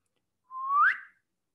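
Rising chirp of a gravitational wave from two merging black holes rendered as audio: a single tone sweeping upward in pitch and swelling in loudness for under a second, ending abruptly at the merger, alone with no talk.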